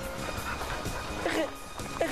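A dog gives a couple of short yips and whimpers over steady background noise, with a voice present.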